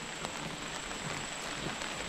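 Heavy rain pours steadily during a village Ganesh festival in Konkan, a dense, even hiss of drops on surfaces with no voices, continuous and moderately loud throughout.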